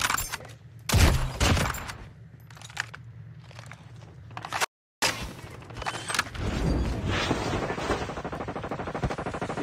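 Video game gunfire, rapid bursts and single cracks of shots close and loud, with a brief dropout in the middle and sustained fire continuing afterward.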